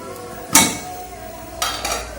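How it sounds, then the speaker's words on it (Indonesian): Metal dandang steamer pot for cooking rice set down onto a pot of hot water on a stove, two sharp close clanks about a second apart, the first louder, over a low kitchen hum. "Sekarang saya mau langsung naikkan ke atas panci kembali."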